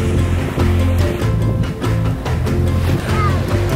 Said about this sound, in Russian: На вас идет волна.